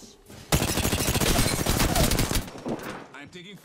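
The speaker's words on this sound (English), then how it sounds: "I'm taking fire." Gunfire in Apex Legends, a dense burst of rapid automatic shots that erupts after a short quiet lead-in and rattles on loudly for about two seconds before thinning out, with a voice talking underneath.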